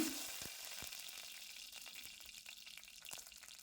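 Mustard seeds and broken dry red chillies sizzle and crackle in hot oil for a rasam tempering, a steady close frying hiss dotted with small pops, no talking.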